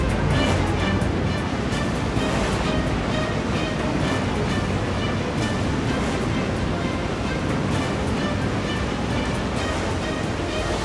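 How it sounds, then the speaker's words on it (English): Water floods a dry dock around an aircraft carrier, a loud, steady rushing roar of churning water lasting throughout with no pauses, close and with no voices. "The flooding of the dry dock begins at 8 o'clock sharp."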